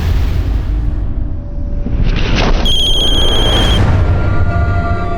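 In a Hindi TV crime drama scene, a bright electronic telephone ring sounds for about a second, rising over a swelling dramatic boom and background score.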